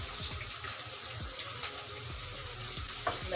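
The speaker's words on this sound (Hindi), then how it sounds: "लहसुन भी साथ ही भून जाएगा प्याज के।" Onion and garlic frying together in a pan over a medium flame for pulao, a soft continuous hiss and crackle with occasional light clicks and scrapes, close and steady with no talking.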